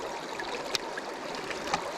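A creek flows steadily nearby during a night fly-fishing trip for trout in Pennsylvania, making a continuous hiss of moving water with a few faint splashes and drips.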